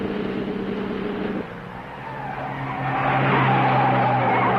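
A car on a race track with hay bales lining the course skids and squeals its tires through a sharp turn while the engine revs and climbs in pitch, loud and continuous, no talk.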